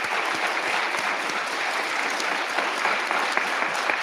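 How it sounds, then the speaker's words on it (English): Steady audience applause at a regional science and engineering fair for high school seniors, dense and continuous clapping from a large crowd filling the room at even loudness throughout. "So a big round of applause for U of M Flint."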